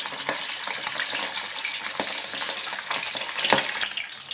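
Fish frying in a pan of oil, a steady close sizzle with soft crackles and a few brief spatters, no voices.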